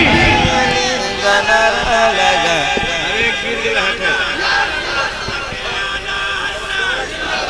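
A large crowd at a devotional naat gathering roars back in response to the Naara-e-Takbeer slogan, a sustained, dense mass of chanting voices, loud and continuous throughout.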